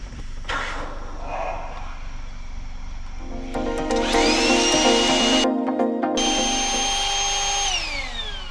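A Flex Tail electric air pump whirs and rises in pitch as it works to deflate, a loud close motor drone with a brief cut-out and a falling tone near the end.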